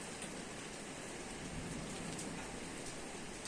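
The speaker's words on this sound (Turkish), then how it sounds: "yağmur çok şiddetli yağıyor" Heavy rain pours in a dense, steady hiss during a stormy day at a village house, with no voices.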